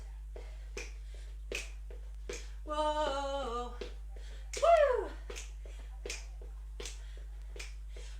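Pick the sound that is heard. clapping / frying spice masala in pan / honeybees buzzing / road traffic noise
clapping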